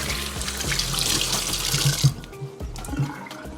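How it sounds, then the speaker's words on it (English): Tap water runs steadily into a kitchen sink while hands are washed, a continuous splashing hiss that cuts off partway through, leaving a quieter room with faint clinks. "Wash my hands"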